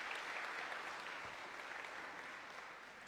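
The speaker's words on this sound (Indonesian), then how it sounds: "Berikan tepuk tangan yang meriah buat Tuhan kita." Sustained applause from a congregation filling a church during a Sunday service, a steady wash of clapping that holds for the whole span and eases off slightly toward the end.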